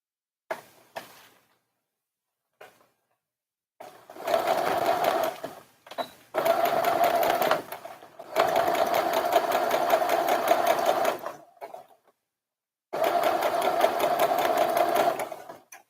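A sewing machine runs in several bursts of steady mechanical whirring, with short quiet gaps between them, as a little girl's dress is sewn. No one speaks.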